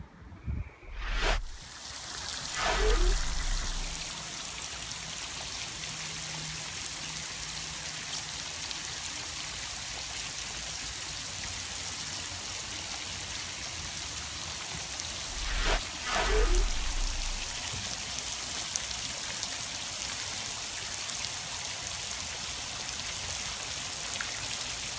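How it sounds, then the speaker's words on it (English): Homemade drip irrigation of drilled PVC pipe aimed at the base of garden plants, giving a continuous soft trickle and patter of water, with a couple of brief handling bumps. "for the amount of dripping that I'm getting"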